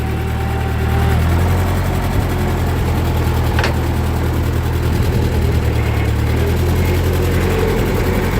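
A 1941 Ford 9N tractor engine runs steadily at a low idle, a constant deep rumble held close and loud throughout with no pauses.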